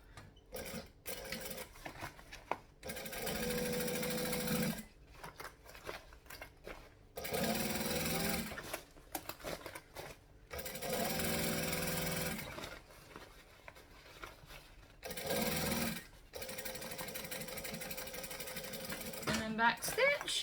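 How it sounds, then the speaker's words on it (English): A sewing machine topstitches fabric panels that are clipped together, running in several bursts of steady whirring separated by pauses, with a voice talking between some of the runs. "I can now come back knowing that they're even and just go back and top stitch."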